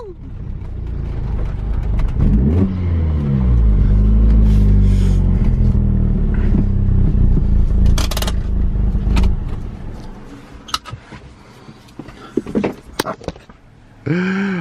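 A Volkswagen Mk4 GTI pulls up a driveway in first gear. The engine rumbles loud and close with rising revs for several seconds, then cuts off, leaving scattered clicks and knocks.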